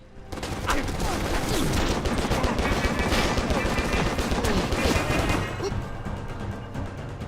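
Heavy gunfire fills a shootout with shotgun-wielding enemies in the action video game Stranglehold, with dense, continuous bursts of shots, crashes and impacts rolling on loudly for several seconds.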